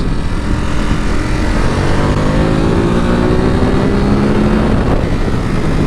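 A 2021 Ducati Supersport 950 S motorcycle rides along a country road with a steady, loud engine drone and wind rush whose pitch slowly climbs and shifts as it accelerates, with no talking.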